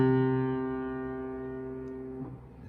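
A single bass clef C struck on a piano keyboard with the left hand, a sustained harmonic tone that rings clearly and slowly decays over a couple of seconds, close and alone.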